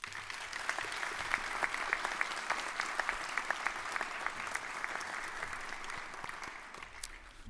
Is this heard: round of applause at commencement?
yes